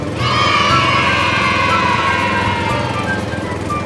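A farm tractor engine runs steadily up close, a loud continuous rumbling drone with a rough, rattling mechanical texture that holds level before easing slightly toward the end.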